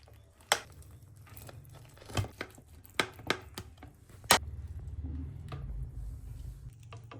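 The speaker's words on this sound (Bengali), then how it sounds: "এবার ছুরির সাহায্যে কেটে নেব পিস পিস করে।" A knife cuts firm, freshly made gabra pitha, a sweet cake made with cow's milk, into square pieces. It gives a series of close, irregular soft chops and thuds with short pauses between cuts and no talking.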